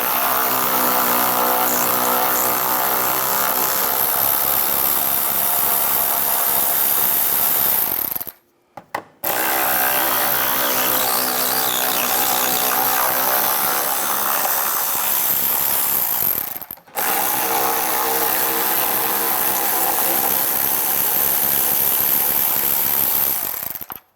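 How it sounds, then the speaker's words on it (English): Power driver with an 8mm socket backing out the three lower headlight screws on a 2011-2019 Ford Explorer, three long continuous whirring runs separated by short pauses, close and loud, no talking. "We're going to take these 3 screws out underneath, use the 8mm socket"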